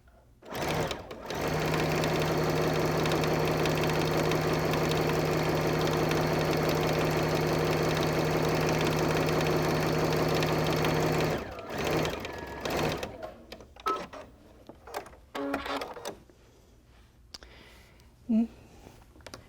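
A sewing machine runs steadily for about ten seconds as it stitches the handle of an Amy Butler Belle handbag, then stops. Quieter handling noises and small clicks follow.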